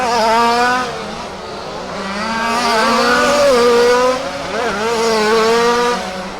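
Rally race cars roar down the back straight at a dirt-track raceway, engines revving loud and close in rising and falling sweeps, with shifts and overlapping motors and no voices.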